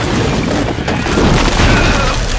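A bomb explosion in the Hellboy movie erupts as a loud, sustained deep boom with crackling debris and rumble filling the whole moment, close and dense.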